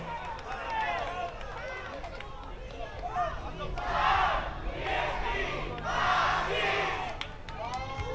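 A parade crowd in Pasig City shouts and cheers loudly for the Boy Scouts of the Philippines as they march past, the roar rising in two strong waves amid steady babble.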